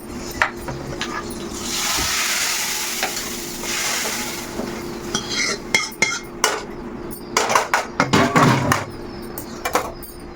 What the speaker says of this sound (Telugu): ఇక్కడ ఆల్రెడీ తాలింపులో కూడా ఇది ఆవాలు జీలకర్ర ఎండుమిర్చి కలిమొక ఇంగువ వేసాను ఇప్పుడు ఇందులో వేసేద్దాం